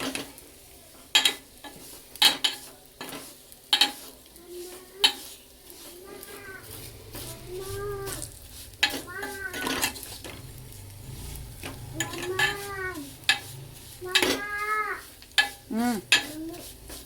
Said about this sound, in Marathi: आता आपण यामध्ये व्यवस्थित शेवया भाजून घेणार आहोत।